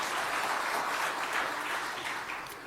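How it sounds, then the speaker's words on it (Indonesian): A crowd at a gathering addressed by the Central Java governor applauds, producing a dense wash of clapping that stays steady for a few seconds before easing slightly. "Tepuk tangan untuk Pak Nana"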